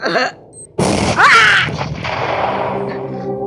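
A grenade explodes suddenly in Counter-Strike: Global Offensive after a brief quieter stretch, followed by a rough, ringing rumble that slowly fades; a short voice is heard at the start.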